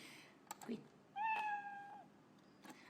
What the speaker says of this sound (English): You can either pick meow or record your own sound, but for now we're just going to stick to meow.